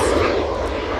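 Airliner departing Edinburgh Airport for Dublin, a steady loud jet engine roar filling the whole second with broad rumbling noise, wind buffeting the microphone at a windy spotting position.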